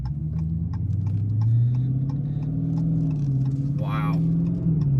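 Car engine hums steadily while driving, a low, smoothly rising and falling drone as the revs climb and settle through shifts, with a voice speaking over the cabin rumble.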